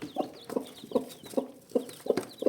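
Chickens for sale give a steady series of low, rhythmic clucks, about one every half second, close by and clear with no talking over them.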